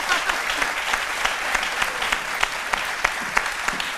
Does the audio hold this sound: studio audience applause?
yes